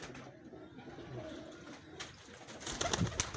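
Pigeons at a breeder's loft cooing softly amid steady background noise, with a few brighter calls clustering near the end.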